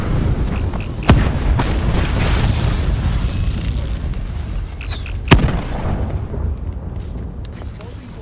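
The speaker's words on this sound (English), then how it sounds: "Throwing cluster grenades." Cluster grenade blasts in Call of Duty: Black Ops 4 arrive as two heavy, booming detonations a few seconds apart, rolling over a constant low rumble of battlefield noise.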